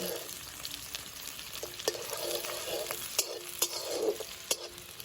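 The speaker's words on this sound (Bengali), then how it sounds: "এবার আমি পেঁয়াজ কুচিটা দিয়ে দেবো। আমি কিন্তু একটা পেঁয়াজ কেটেছি, পেঁয়াজটা আমি লাল লাল করে কিন্তু ভেজে নেবো।" Chopped onion fries in hot oil for a mutton keema filling, with a constant close sizzle broken by several sharp scrapes and clacks as it is stirred.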